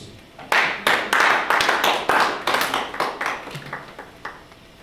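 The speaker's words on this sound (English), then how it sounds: "Clap for Jesus." A church congregation claps in worship, a burst of sharp, loud, uneven handclaps lasting a few seconds before tapering off.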